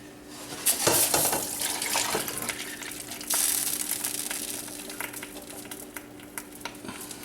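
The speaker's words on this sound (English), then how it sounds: "cover this with water" Water gushes from a tap into a stockpot full of veal bones, a splashing, rushing pour that surges and fades in uneven bursts with clinks of the pot, close up and without speech.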